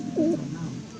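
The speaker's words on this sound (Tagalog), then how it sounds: "Ito po ang ating mga kalapate" A pigeon gives a single short, low, throaty coo close to the microphone, with faint background noise.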